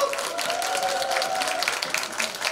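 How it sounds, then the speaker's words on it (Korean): An indoor crowd at a volunteer group's awards ceremony breaks into sustained applause, a thick wash of overlapping claps with a faint tonal hum beneath. "한번 힘찬 박수가 한번 네."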